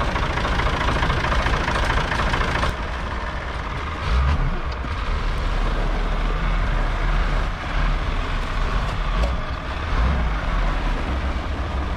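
A forklift engine idles steadily and close by, a continuous low rumble with a slightly knocking mechanical chug that dips briefly and then resumes, with no one speaking.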